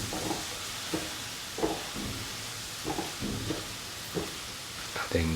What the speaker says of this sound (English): Mix thoroughly so that the mushroom pieces are nicely